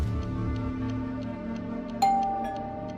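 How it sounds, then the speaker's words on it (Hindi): A doorbell gives a single clear ding in a quiet room in a crime drama, ringing out sharply partway through and then fading away over a low background hum. "अरे यार फ्रांसिस, कोई किलर तुझे मारने के लिए तेरी डोरबेल बजाएगा?"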